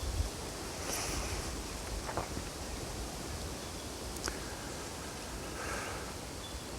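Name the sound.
wind blowing outdoors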